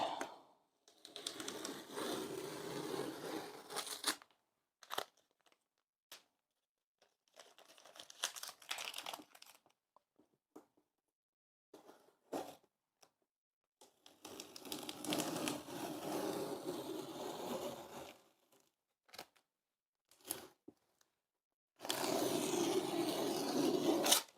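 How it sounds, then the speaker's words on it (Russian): Painter's masking tape is peeled off a wall in several separate pulls, each a dry crackling, tearing rasp lasting a few seconds, close by, with quiet pauses between strips and no talk. "теперь снимаем наш малярный скотч"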